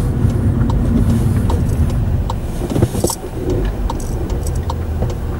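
A BMW car passing on a street, a loud, steady engine and tyre rumble close by throughout, with faint ticking and clicking over the broad road noise.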